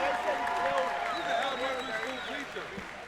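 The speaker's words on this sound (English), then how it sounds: "another round of applause for a hard-fought championship" A crowd applauds after a championship fighting bout, a broad wash of clapping and cheering under a ring announcer's amplified voice.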